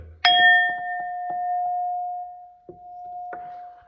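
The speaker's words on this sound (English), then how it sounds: "So I have this bowl here, right? My little gong bowl." A small gong bowl is struck once, ringing out with a clear, sustained metallic tone that slowly decays, followed by a second lighter strike that renews the ring; faint soft knocks occur beneath it.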